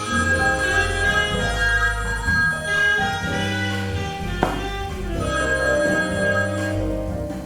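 A telephone rings with a steady electronic ringtone that carries on without a break for several seconds, loud and alone, with no talk over it.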